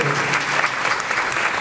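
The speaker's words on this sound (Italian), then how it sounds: "un applauso anche se lei non deve aggiungere altro" An audience at an evening event on the Martoglio case breaks into applause, a continuous mass of clapping at moderate level that stays even throughout.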